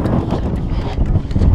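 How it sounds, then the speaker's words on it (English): Wind gusting on the return leg of the Kanchenjunga Base Camp trek in Nepal, a loud, rough buffeting that roars across the microphone without pause through the whole short stretch. "It's turning a bit windy on the way back."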